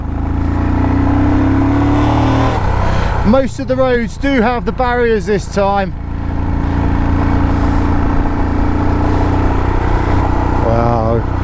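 A Royal Enfield Himalayan motorcycle pulls away on a high mountain road, its single-cylinder engine revving through several rising gear pulls before settling into a steady drone. A rider talks over the engine near the start.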